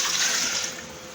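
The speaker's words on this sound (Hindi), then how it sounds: "अब जग में जो थोड़ा सा लगा हुआ है इसमें थोड़ा सा पानी डाल के" Water is poured into a blender jug for curry pakora batter, a short rushing splash that is fairly loud at first and then eases off.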